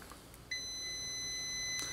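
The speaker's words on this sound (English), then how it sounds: "most of your today's up-to-date meters has got the continuity testing to where, you know, you got the beep beep thing" A multimeter's continuity tester sounds a steady high electronic beep that starts abruptly and holds unbroken to the end over faint background hiss, with no talk.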